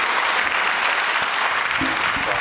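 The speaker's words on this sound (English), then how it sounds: "Yeah, round of applause." A round of applause on a podcast, dense steady clapping from a small group held for a couple of seconds, with faint voices mixed in.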